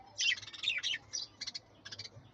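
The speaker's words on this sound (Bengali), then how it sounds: "এই যে এটার মধ্যে অনেক বাজিগার পাখি আছে" Budgerigars in a cage chirping, a quick run of bright twittering calls in short clusters, close but fairly faint, with no voices.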